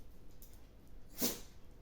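A single short, sharp sneeze, quiet and close, set against a faint steady background.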